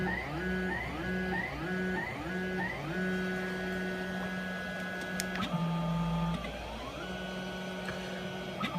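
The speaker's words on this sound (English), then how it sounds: "while it's still printing that first strip" A Da Vinci 1.0 3D printer lays down its first calibration strip, stepper motors whining in stepped, pitch-shifting tones that change as the head moves, steady and close with no talking.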